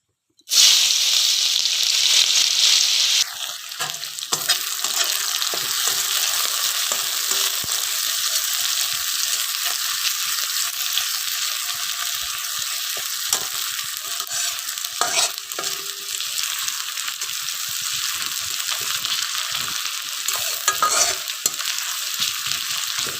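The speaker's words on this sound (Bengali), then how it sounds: "এই মাছ ভাজার তেলগুলো দিয়েই এখন পেঁয়াজ ভাজা করছি" Sliced onions fry in the leftover oil from frying pabda fish, a steady, loud sizzle holding for the whole stretch with occasional stirring scrapes and no talking.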